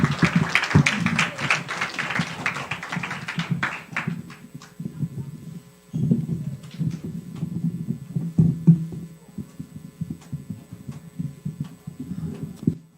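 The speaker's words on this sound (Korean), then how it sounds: "우리 하민이에게 박수 한번 쳐줄게요." A children's and youth audience at a church retreat claps for Hamin, with dense applause that tapers off after a few seconds, then scattered softer claps and low rumbling room noise.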